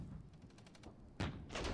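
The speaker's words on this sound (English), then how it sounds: "the mortars automatically firing" Mortars in the Cold War era real-time tactics game Regiments fire on their own, with a faint rapid train of small thuds giving way to two louder, broader blasts close together near the end.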